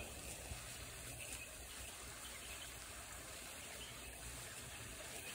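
Steady rushing water of a small waterfall feeding a koi and goldfish pond, a continuous close splashing wash with no voices.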